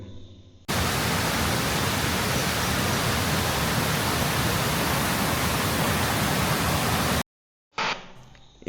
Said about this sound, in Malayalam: വലിയ ശബ്ദത്തോടെ ഒഴുകുന്ന ഒരു കാട്ടുചോലയ്ക്കരികിൽ